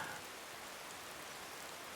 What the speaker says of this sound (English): Ah, smell that rain.